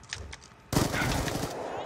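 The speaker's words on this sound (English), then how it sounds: "I'm getting shot from both sides of the map" Black Ops 2 gunfire erupts abruptly after a quiet stretch, a loud sustained burst of rapid shots from several guns that continues for over a second in a busy video game match.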